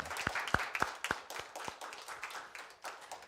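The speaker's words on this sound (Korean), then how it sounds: "감사의 박수 한번 드리겠습니다" A church congregation gives a faint round of thanks applause during a Sunday worship service. It opens with a few sharp, distinct claps and thins into scattered, softer clapping.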